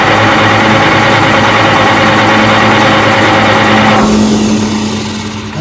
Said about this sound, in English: Okay, we're going to try starting it again.